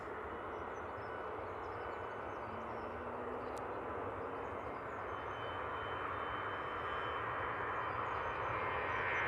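Airbus A320 airliner at Manchester Airport, a steady broadband jet roar heard from a distance, fairly faint and unbroken throughout, with no voices.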